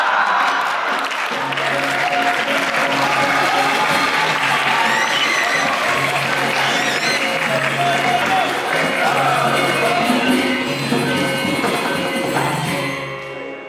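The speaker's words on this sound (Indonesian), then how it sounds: "orang tepuk tangan" Large audience applause at a Balinese wayang Calonarang performance in Denpasar, a dense sustained wash of clapping with scattered cheers and whoops that swells and then fades away at the end.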